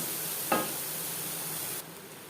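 Soft, steady sizzling as spices sauté over a medium-low flame for moong dal, with a brief stirring scrape near the start, fairly quiet and continuous.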